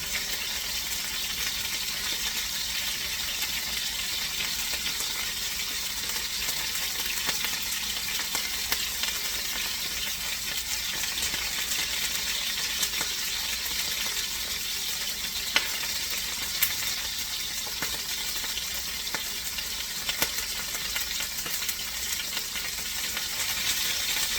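Monkfish sizzles and fries in a hot pan with a steady, dense hiss and scattered crackling pops throughout, continuous and fairly loud with no voices.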